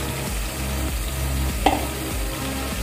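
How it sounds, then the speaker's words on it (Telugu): Masala paste of coconut, cashew, ginger and poppy seeds frying and being stirred for a prawn curry, loud close sizzling with a low rumble and one sharp spoon clack, no talking. "మొత്తం బాగా కలుపుకోవాలండి, ఫ్రై చేసుకోవాలి ఈ మసాలాలు కూడా"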